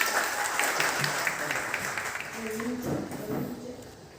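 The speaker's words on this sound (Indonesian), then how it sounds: "Sekali lagi tepuk tangan yang panas" Applause from a classroom audience, moderate clapping that fades slightly, with voices talking over it.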